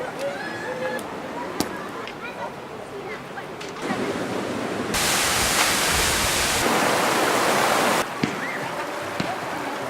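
Mountain waterfall at the Paul Langevin holiday centre in Aussois, a broad rushing roar that swells louder midway, with a person talking over it and a few small clicks and knocks.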